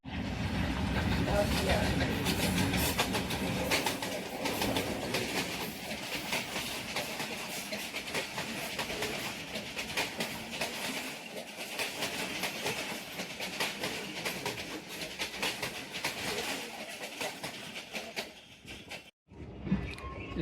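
A train pulls out of Shri Rampura station on the Narowal section, rolling with steady rumble and rhythmic clickety-clack wheel beats throughout, loud and close from inside the carriage, easing off briefly near the end.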